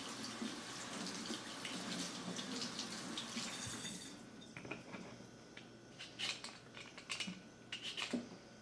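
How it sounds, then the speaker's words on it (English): Potatoes are washed under a running kitchen tap. Water gushes steadily at first, then gives way to splashing and handling sounds with some clinks near the sink. "Washing the potato."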